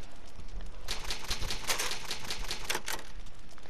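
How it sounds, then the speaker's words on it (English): An old typewriter in the Resident Evil remake clacks out a save, a fast run of crisp key strikes that starts partway in and stays fairly quiet, with no voice over it. "It's an old typewriter. You can save progress."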